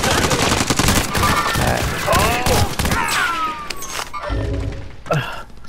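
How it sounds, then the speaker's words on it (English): Rapid bursts of automatic gunfire and impacts crackle through a multiplayer shooter firefight, dense and loud, with scattered thuds, a ricochet-like whine and a voice briefly heard in the mix. "I'm taking fire!"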